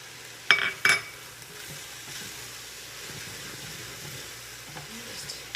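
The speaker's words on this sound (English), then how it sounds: "I'm going to add the kale." Kale dropped into a pan of shredded vegetables already sizzling, opening with two sharp clatters and then a steady soft frying hiss alongside a few faint scrapes, with no talking.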